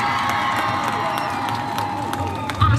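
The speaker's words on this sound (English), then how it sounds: "Round of applause." A crowd at a 4-H livestock expo event cheers and claps in a continuous wash of voices and whoops, with a louder swell near the end.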